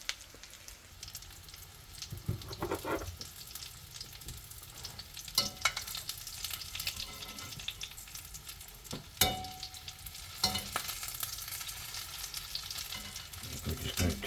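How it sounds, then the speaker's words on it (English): City chicken pieces brown in a frying pan with a steady, close sizzle, broken by occasional louder crackles and pops, with no talking. "I just brown them all the way around. So a couple minutes on each side."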